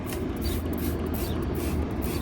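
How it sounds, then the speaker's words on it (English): Wheel cleaner sprayed liberally between the spokes of a car wheel, a continuous hissing spray close up with faint shuffling underneath. "So we're just gonna go ahead and just liberally spray this on between the spokes."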